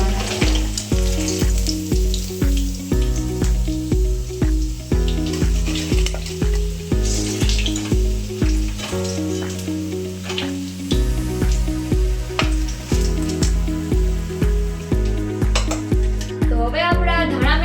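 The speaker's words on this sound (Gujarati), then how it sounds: "આપણે આ ધીમે ધીમે પટ્ટીને હલાવી છે જેથી દાળ થઈ ગઈ છે" Gujarati methi dhana bhajiya fritters made with fenugreek and coriander frying in hot oil as they are stirred, a continuous loud sizzle with rhythmic scraping and clinking of the utensil, plus a steady electronic music bed throughout.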